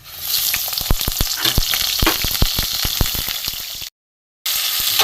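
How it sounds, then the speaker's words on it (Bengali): Round slices of ridge gourd fry in mustard oil, making a loud, close sizzle full of sharp pops and crackles. The sound cuts to a brief silence near the end, then resumes. "আমার ঝিঙেগুলো ভাজা হয়ে গেছে"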